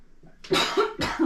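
A single person coughs twice in quick succession, close and fairly loud, after a faint throat sound.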